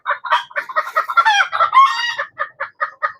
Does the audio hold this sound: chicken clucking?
yes